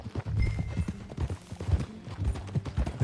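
Hooves of a ridden horse beat out a quick, regular clip-clop in the video game Red Dead Redemption 2, close and prominent for a few seconds with a soft mix of game ambience around them.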